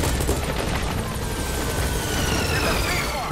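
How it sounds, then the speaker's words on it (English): Helicopter in Metal Gear Solid V approaches amid a battle, its dense rapid rotor chop mixed with bursts of gunfire in a loud, continuous wall of game noise under a narrating voice. "So we'll call the helicopter back to our landing zone."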